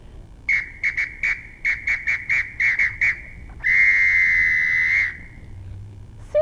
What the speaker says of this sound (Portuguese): O que nós temos lá? Um apito.